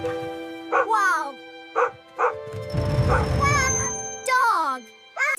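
A dog barks in a children's phonics song, several sharp yapping barks and whimpers in quick bursts, loud and close, over a bright musical backing with a voice mixed in.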